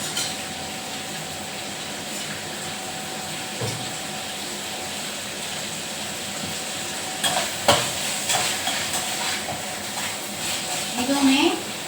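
Dosa batter sizzles on a hot pan as a steady broadband hiss that runs throughout, with occasional clinks and scrapes and a person talking over it.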